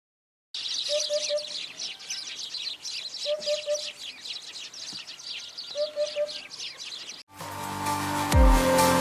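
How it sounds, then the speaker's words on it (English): Hoopoe calling in Uttarakhand, a soft repeated three-note hoot heard in spaced groups over a wash of other birdsong, before a sudden change to a louder, different sound at the end. "let us hear to the call of this bird"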